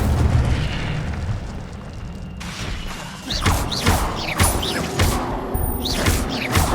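Incendio fire spell being cast in the Hogwarts Legacy video game, a loud sustained fiery roar with repeated whooshing bursts layered over constant game noise.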